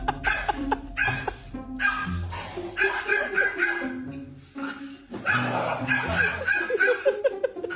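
Dogs bark in short, sharp bursts after being scared by their owner, mixed with chuckling and laughter from people nearby.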